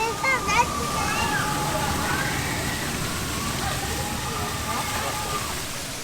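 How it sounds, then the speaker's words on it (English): A white-water waterfall at a theme park, Chessington World of Adventures, rushes with a steady broad wash of splashing water, while voices talk over it near the start. "now it's just a normal waterfall"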